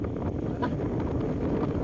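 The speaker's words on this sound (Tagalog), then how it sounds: "Mas pa rin ang hangin." Steady wind rushes and buffets against the microphone during a solo motorbike ride through mountainous North Luzon, a constant broadband roar with no talk over it.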